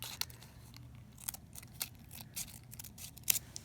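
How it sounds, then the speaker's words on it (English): Small scissors snip excess paper cupcake liner while making a rosette, a series of quiet, sharp, irregularly spaced cuts close to the microphone with faint background hum between them. "I'm going to go ahead and snip off the excess"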